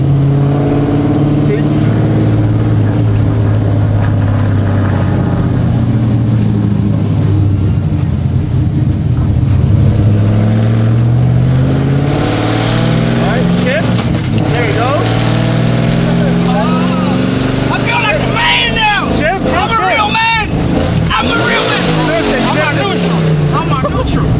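Sequential-shift burnout truck engine revs loudly and steadily, pitch climbing and dropping through gear changes, with people talking over it throughout.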